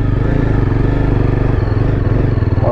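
A fully loaded Yezdi Adventure motorcycle with panniers and accessories drones loudly while being ridden, a close, steady, throbbing engine note with slight rises in pitch, no voices.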